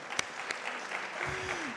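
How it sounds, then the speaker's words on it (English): Scattered clapping from a county event audience, moderate and brief, with a faint voice-like tone rising under it near the end. "Y'all can clap for that one too."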